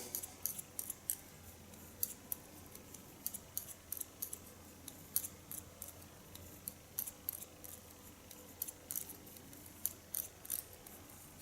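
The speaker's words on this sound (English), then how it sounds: "every time I enjoy the sound of a scissor. It's a very relaxing sound" Rapid, crisp snipping of scissors through hair, close and quiet, in irregular bursts of clicks with soft hiss between, no talking.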